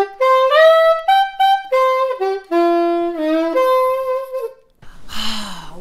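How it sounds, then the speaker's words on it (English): A soprano saxophone plays a lively melodic phrase of quick, clear notes up close, followed by a brief breathy sound at the end. "This one is a soprano, and it sounds something like this."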